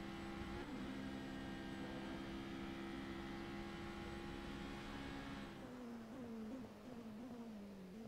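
Onboard engine sound of a race car in a sim racing endurance series at Spa-Francorchamps, a steady high-revving drone holding pitch, then shifting and wavering as the car changes gear, heard alone without talk.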